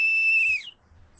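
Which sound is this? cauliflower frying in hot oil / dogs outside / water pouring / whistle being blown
whistle being blown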